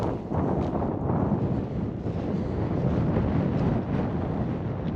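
Strong wind buffets the microphone outdoors beside a 2017 Toyota Tacoma, a loud, steady low rumble with gusty swells and no other sounds standing out.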